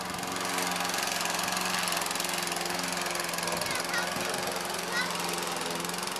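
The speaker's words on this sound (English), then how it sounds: "I'm helping a mama mow the lawn." Petrol lawn mower running steadily outdoors on a hot day while mowing a lawn, a loud continuous engine drone throughout, with voices talking faintly over it.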